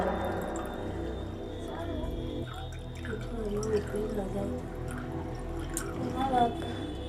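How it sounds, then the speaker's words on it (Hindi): Petrol poured into a container half filled with water gives soft, faint dripping and trickling, low in level, with a voice faintly present in the background. "देखिए, आधा हम इसमें पेट्रोल डाल दिए।"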